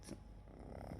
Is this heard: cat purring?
yes